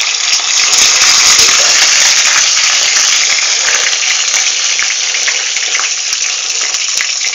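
Meat frying and being turned in a hot pan, a loud, steady close-up sizzle with crackles and spatters that keeps going without a break.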